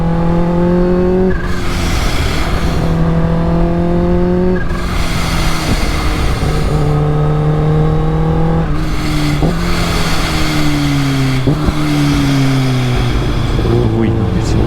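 A 280 hp Kawasaki H2 motorcycle accelerates hard and loud, its engine note climbing through several gears with sharp drops at each shift, while a rider talks over it.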